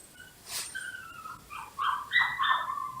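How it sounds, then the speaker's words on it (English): A pet dog whimpers and whines outside, wanting to be let in, with thin high cries that rise into a cluster of louder plaintive whines near the end, heard from a little distance. "if you hear that, I promise you my dog, she's not in pain or anything, she just wants in"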